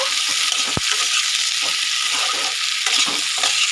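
Ginger and garlic being stir-fried in a pan, a continuous close sizzle with stirring scrapes and one sharp utensil knock.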